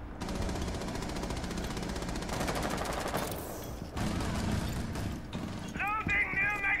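Rapid SMG bursts crackle in Rainbow Six Siege, repeated automatic fire in fast clattering strings, with players talking over the shooting and a brief electronic tone near the end.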